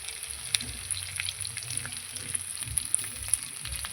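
Ground coconut paste goes into a pan of frying potatoes and onions, producing a steady crackling sizzle with small pops and light stirring scrapes, close and moderately quiet throughout.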